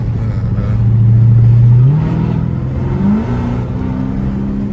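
A 2018 Dodge Charger Hellcat in track mode accelerates hard, its engine note climbing loudly through a gear change and pulling up again, heard from close by with no talking.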